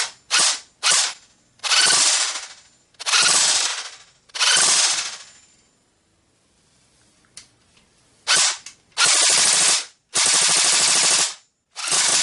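An AK-74 rifle fires in long automatic bursts, loud and close, several sustained strings of rapid shots separated by short pauses and one longer quiet gap, with a few single shots in between.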